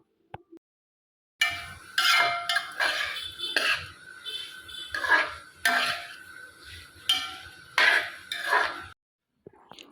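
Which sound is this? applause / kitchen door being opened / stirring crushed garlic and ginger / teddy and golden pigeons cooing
stirring crushed garlic and ginger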